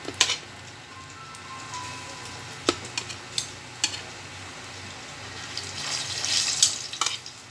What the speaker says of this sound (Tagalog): Iprito natin yung saging.